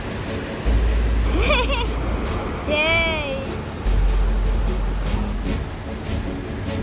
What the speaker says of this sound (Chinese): 你可以看到整个瀑布超级壮观的